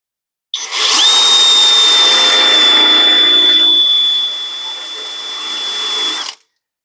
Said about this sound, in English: what I've been doing is drilling a hole partially through the center